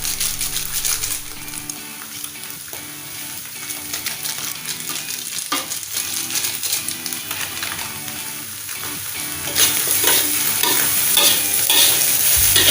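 Mie goreng noodles stir-fried with seasoning in a pan, a steady close sizzle with scraping stir strokes throughout, growing louder and brighter near the end, with no talking.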